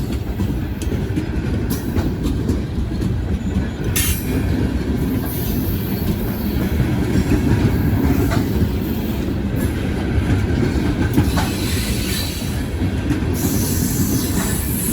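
A freight train rumbles past nearby, loud and continuous, with rhythmic clacking of wheels over rail joints and occasional squeals.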